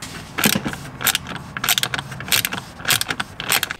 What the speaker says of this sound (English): So easiest way to remove is to use a small wrench